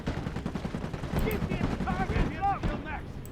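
In the Iron Harvest strategy game, gunner units fire rapid bursts of small-arms fire that crackle steadily and sit at middle distance, with shouted unit voice lines and game sounds layered over the top.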